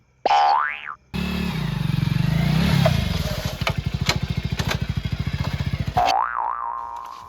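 A motorcycle engine revs up and idles with a rapid, pulsing putter that slows toward the end, fairly close and steady, framed by brief springy tones.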